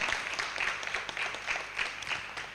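Short, moderate applause from an audience at a corporate sustainability launch for bio food products, with distinct clapping pulses over a couple of seconds.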